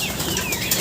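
Racing pigeons flap their wings inside a loft, a steady, close fluttering that fills a brief moment, with no voices heard.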